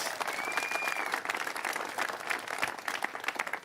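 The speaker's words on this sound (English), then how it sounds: "Let's give a big round of applause because they're the driving force behind all of this." An indoor audience at a California government event on the film and TV industry claps, giving dense, steady applause from many hands.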